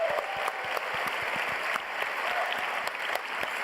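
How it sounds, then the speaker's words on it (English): An audience at a video game awards show claps in a steady, dense round of applause that holds throughout. "let's give them a huge round of applause"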